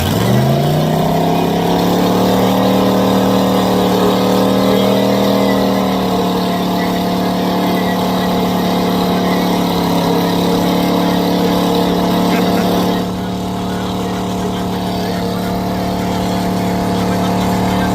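A truck engine revs hard at a muddy off-road event, its loud roar climbing in pitch and then holding a sustained high drone up close. The note drops slightly near the end.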